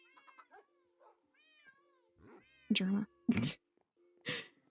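Several pet cats meow in a blocky video game world, a string of close, varied meows and chirps, some short and a few louder and drawn out, with no talking.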